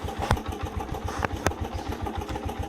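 A repaired motorcycle engine runs steadily nearby, a rapid, even idle pulse with a couple of sharper knocks standing out, and no talking over it.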